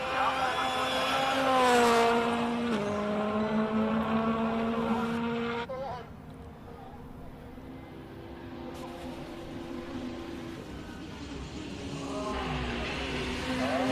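Petter Solberg's race car climbs the hill at Simola during Hill Climb 2023 qualifying, a high revving engine rising and falling through gear changes, loud at first then fading into the distance, with commentary over it.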